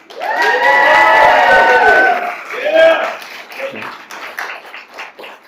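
A graduation ceremony audience cheers, whoops and claps loudly for parents and grandparents. The loud shouts swell, then fade into scattered hollers and clapping.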